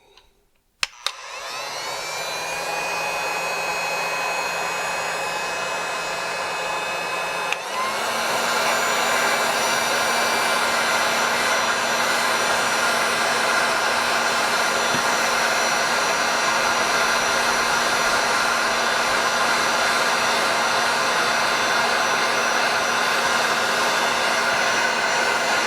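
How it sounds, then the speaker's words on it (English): Heat gun blowing hot air onto a briar pipe to melt wax: a loud, steady roar with a whine that starts abruptly and shifts up once, then holds continuously to the end, with no talking. "I'm going to put my heating gun on this for a bit."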